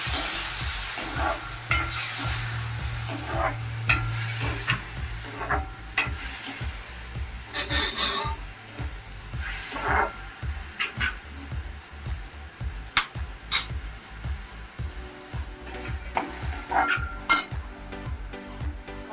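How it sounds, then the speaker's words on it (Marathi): Prawns sizzle in a hot pan as a spoon repeatedly stirs and scrapes against the metal, steady frying under clinks of utensils, with no talking. "थोडी गरम करायची कोळंबी"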